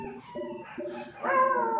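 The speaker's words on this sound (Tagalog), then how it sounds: "kita nyo, may mga aso" Dogs near a cave howl and whimper in short, wavering tonal cries, several in succession and rising into a louder, sustained howl at the end.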